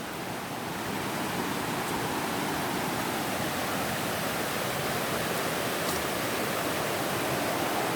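A river rushes and flows steadily below El Salvador Falls in Palawan, a broad continuous wash of water noise heard close and alone.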